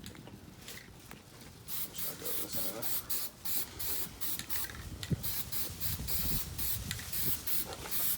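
Primer sprayed from a can across a car's engine bay, with repeated hissing bursts of varying length, close and fairly loud, separated by brief pauses.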